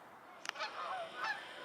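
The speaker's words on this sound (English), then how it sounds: "The geese are flying close to the water" Geese honk in a few scattered calls as they fly low over the water, fairly faint and set against a soft background hiss.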